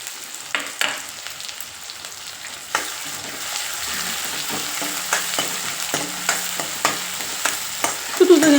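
Onions sauté in oil in a pan until brown, giving a steady close sizzle with regular scraping and tapping strokes of a stirring spoon, alone without talk.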